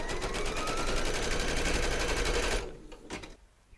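A sewing machine stitches around batting in a quilting project, its fast, steady needle rattle running loud and unbroken for a few seconds before stopping abruptly, followed by a couple of faint clicks.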